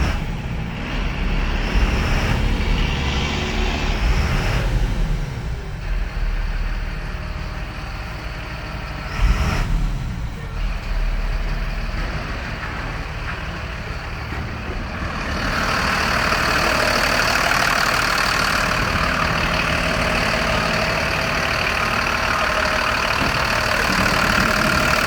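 A 2007 Mercedes-Benz MBE900 turbo diesel engine runs steadily at idle, a rough mid-pitched rumble that rises and gets louder in the second half as it revs.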